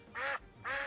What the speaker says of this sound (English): It's just a duck.